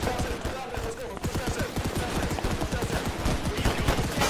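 Rapid gunfire in the WW1 shooter Holdfast: Frontlines WW1: dense bursts of shots crackle continuously and loudly throughout, steady and close, with no voice over them.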